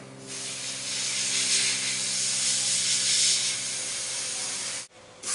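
An airbrush sprays paint onto a life-size Frankenstein bust, a steady close hiss that holds for about four and a half seconds before cutting off briefly and starting again.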